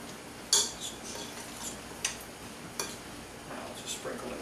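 Chili powder being stirred into a mixture with a spoon, soft scraping with a few sharp clicks of metal against the dish at irregular intervals, quiet and close.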